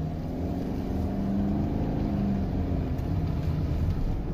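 A 2020 Subaru Forester climbing a hill in first gear, its engine droning steadily and building in pitch from inside the cabin, continuous and fairly loud with no talk.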